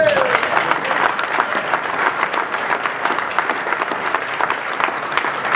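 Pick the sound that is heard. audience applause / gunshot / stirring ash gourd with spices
audience applause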